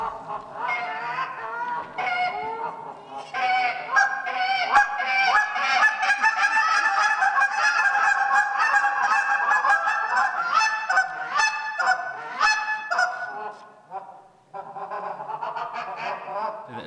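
At a waterfowl festival, a contest caller blows a waterfowl call to imitate a goose, giving a long run of loud, close, rhythmic honks and clucks with brief pauses.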